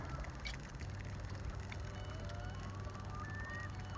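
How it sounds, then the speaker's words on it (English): A loon calls across a lake on a spring crappie-fishing day in the North Country: faint, drawn-out wavering wail notes, distant, above a steady low rumble. "You hear a loon in the background"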